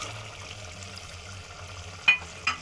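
Fried potatoes tipped into a pot of aloo matar gravy, giving a steady low sizzle and bubbling with two sharp scraping clatters near the end, close and fairly quiet.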